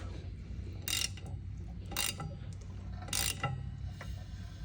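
Crankshaft of an 1800 hp Coyote engine turned by hand during a rebuild gives three loud, close mechanical clunks at regular intervals, with a faint ratcheting click between them over a low background hum.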